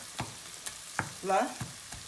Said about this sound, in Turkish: Biraz daha kavrulmaya bırakıyorum.